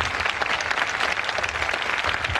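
An audience bursts into loud, sustained applause at a live special-edition show marking 40 years of democracy. The dense clapping fills the whole stretch without a break and with no voices over it.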